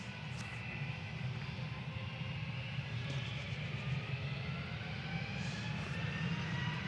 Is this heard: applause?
no